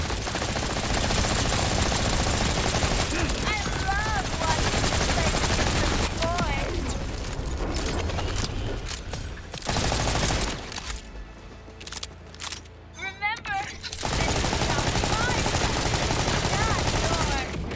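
Rapid, dense gunfire bursts in the video game Borderlands 4, with ricochets, roaring almost continuously. The shots thin to scattered cracks and whines partway through before heavy firing resumes.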